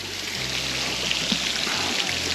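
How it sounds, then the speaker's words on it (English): A creek flowing beside the Dreimühlen waterfall, a steady broadband rush of running water heard continuously at moderate loudness, with no voices. "And it's right here along a creek"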